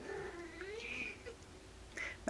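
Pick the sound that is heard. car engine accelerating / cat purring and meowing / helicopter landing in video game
cat purring and meowing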